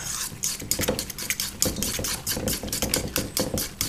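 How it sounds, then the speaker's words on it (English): A fork beats butter and milk in a bowl, giving quick, rhythmic clicking and scraping taps, close and fairly loud, repeating steadily throughout. "Beat it a few times with the fork."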